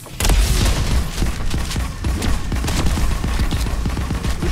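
Rapid automatic gunfire in a multiplayer ghost-hunting video game, a continuous close, loud stream of shots with punchy low thumps, sustained for several seconds without pause.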